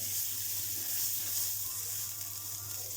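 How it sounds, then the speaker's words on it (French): Pepper toasting with onions in a pan for a duck breast pepper sauce, a soft, even hiss of frying that is close but fairly quiet, steady throughout with no voices. "Le poivre il commence à être torréfié au bout d'1 minute à peu près. On mélange aux oignons."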